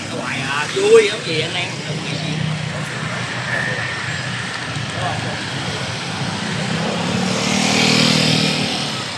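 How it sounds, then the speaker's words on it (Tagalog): Steady roadway rumble of motorcycles passing continuously on a busy street, engines droning at mid distance with one swelling louder as it nears, under a person talking throughout. "walang tigil ito mga motor, dire-diretso"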